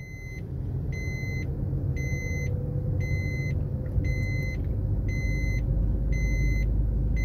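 Inside a car on a driving lesson, a seat belt warning chimes repeatedly in even, evenly spaced bursts over the low rumble of the engine and road noise, with no talking.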